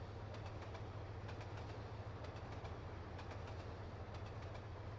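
A commuter train in Trainz Simulator 2 runs steadily with a low engine drone and repeated clickety-clack of wheels over rail joints, continuous and even.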